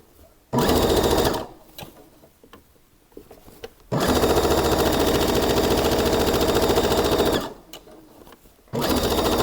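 Sewing machine stitching a backstitch on a kimono-style top, running in loud, steady bursts: a short run, a pause, then a longer sustained run and a final burst, with no talking.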